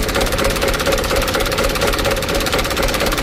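Mitsubishi Canter truck engine with a fault that makes it slow to drop back to idle, held at steady, loud, elevated revs with a constant mechanical hum and knock throughout.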